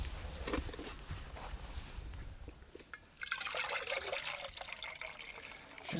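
Water poured into a cup at a hunting camp, a soft trickling, splashing stream that grows fuller midway, faint against outdoor background noise with no talk.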